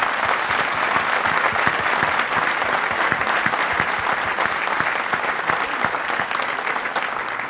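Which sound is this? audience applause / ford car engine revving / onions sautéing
audience applause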